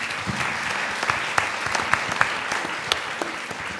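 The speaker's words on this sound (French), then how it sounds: "C'est bien, on va applaudir." Steady audience applause at the final of a French eloquence competition, dense crackling claps with a few sharper peaks, sustained evenly throughout.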